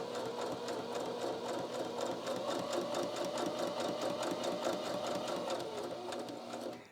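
A Viking Onyx 15 sewing machine stitches along the edge of fabric at a slow, steady pace, its rapid even needle clatter close and continuous throughout with no talking.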